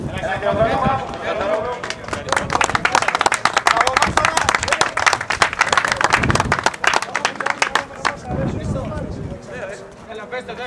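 Applause at an award ceremony as a second-place winner is called, a crowd clapping loudly in a dense patter for several seconds, fading then returning, with a voice speaking over it.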